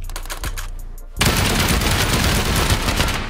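A turret in a base-raiding survival video game opens up with sustained rapid automatic fire, loud and continuous, after a second of quieter scattered shots and background noise.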